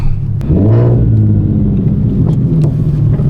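An all-wheel-drive Infiniti Q50 revving loudly nearby, its engine rumble rising and falling through a couple of pulls, with no voices over it.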